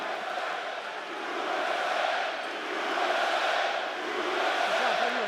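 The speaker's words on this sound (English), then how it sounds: "the crowd rises to a chant supporting the fighter out of Glendale, Arizona" An arena crowd at a UFC event chants in support of a fighter from Glendale, Arizona, a dense, distant roar of many voices swelling and easing in rhythmic waves.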